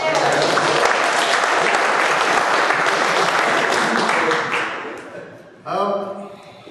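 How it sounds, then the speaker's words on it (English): A big room of people applauds loudly and steadily for several seconds, then the clapping tapers off and a voice begins speaking. "Give him a round of applause."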